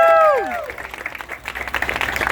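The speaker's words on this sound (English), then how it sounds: "Let's give a round of applause for the Chamber." A brief tonal whoop or cheer opens, then scattered claps build into steady crowd applause for the Chamber of Commerce at a store grand opening, the clapping growing denser and louder toward the end.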